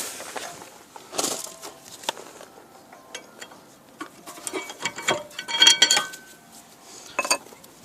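Old rear brake pads being pulled out of the caliper on a 2009 Mazda 6, a close series of scattered metallic clinks, scrapes and light taps with no talk.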